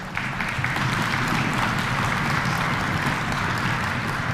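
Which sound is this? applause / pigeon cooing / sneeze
applause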